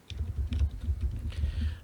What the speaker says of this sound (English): Somebody's typing away like mad.